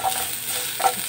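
Garlic sautéing in a pan for Filipino ginisang monggo gives a steady, close frying hiss with two brief brighter bursts that sound like stirring.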